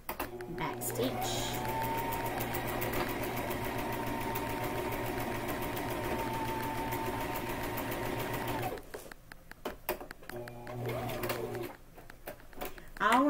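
A sewing machine stitches fabric with a fast, steady mechanical whir and rapid needle clatter, pausing briefly near the end before restarting for a short backstitch, with a person talking over it.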